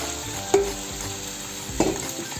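Minced meat sizzles in a pan as tomatoes, onion and capsicum are added, giving a continuous frying hiss with two brief clatters of ingredients or a spoon striking the pan.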